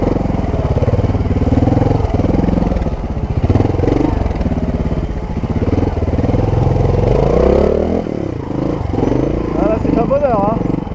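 Montesa 300RR trial motorcycle engine running at low revs, a steady close putter with small throttle swells, under continuous talk from a rider.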